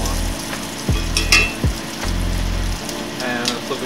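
Bacon fries in a cast iron pan with a steady crackling sizzle, broken by a few clinks and scrapes of a utensil flipping the strips, close and loud.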